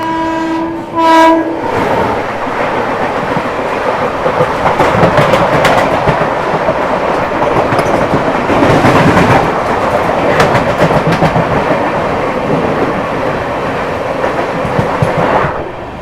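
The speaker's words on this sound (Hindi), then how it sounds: "अभी फिलहाल बेगमपुरा एक्सप्रेस आने वाली है, वाराणसी से जम्मू तवी जाने वाली।" Begampura Express from Varanasi to Jammu Tawi passing a level crossing in dense fog: a short loud horn blast at the start, then a sustained rumbling roar of wagons with rhythmic clatter over the rails, close and steady.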